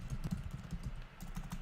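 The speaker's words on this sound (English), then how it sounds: "I'll type it in anyways" Quick, light clicks from a computer keyboard as a command gets typed, a soft close-up patter of keystrokes in an uneven rhythm with no voice.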